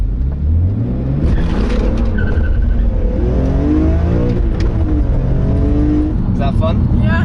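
A car with no launch control accelerates hard from a standstill, its engine climbing loudly through the revs with a gear change, while people talk over the roar from inside the cabin.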